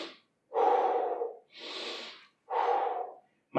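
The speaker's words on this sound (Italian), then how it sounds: "prendo aria e butto fuori" Heavy breathing in and out during an arm workout with weights: four loud, close breaths alternate between inhale and exhale in a steady rhythm, with no talk over them.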